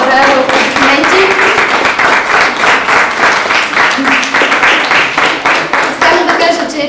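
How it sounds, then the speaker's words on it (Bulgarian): Steady, loud applause from a crowd at a fourth-grade graduation ceremony fills the whole stretch, dense clapping with brief voices and a few whistle-like tones mixed in. "Браво, аплодисменти."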